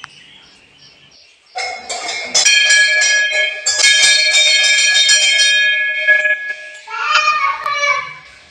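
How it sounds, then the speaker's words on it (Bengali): A temple bell is struck by hand, ringing out bright and sustained with several strikes layering shimmering overtones, close and loud, with a voice and faint chatter around it. "প্রণাম টণাম করে আমি গেলাম ওপরে ঘন্টা বাজাতে।"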